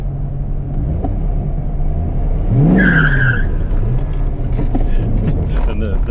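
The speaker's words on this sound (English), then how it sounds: "Squeal the tires." A 1996 Corvette C4 Grand Sport under hard acceleration in first gear, engine roaring loud and close with a sharp rising tire squeal in the middle, wind rushing over the cabin.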